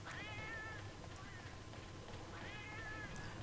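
Cats meow in the volcano area of the video game Monster Hunter 3 Ultimate. There are two or three short, high, wavering calls near the start and again toward the end, fairly soft over a low game backdrop.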